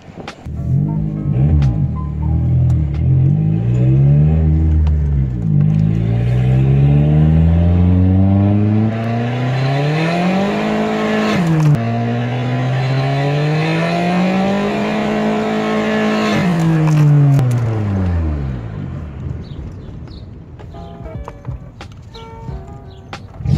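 Turbocharged Nissan B13 Sentra, boost held around 8 to 10 PSI after a wastegate repair, accelerates hard through several gears, its engine note climbing, dropping at each shift and climbing again, loud and close throughout, ending in a quieter idle.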